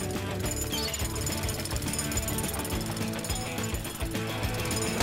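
A jackhammer drilling pounds continuously and loudly, a dense rapid mechanical hammering with clattering overtones, close up with no pauses.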